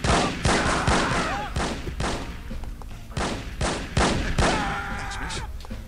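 Gunfire in the video game No One Lives Forever comes as a burst of repeated loud shots, some overlapping in quick volleys, with short gaps between them.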